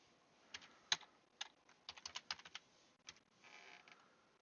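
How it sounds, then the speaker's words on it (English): Quick, uneven keystrokes clatter on a computer keyboard in a quiet room, close and fairly faint, with a brief flurry of faster typing toward the end and no talking. "Boy, I suck at typing."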